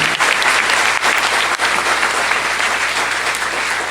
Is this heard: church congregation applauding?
yes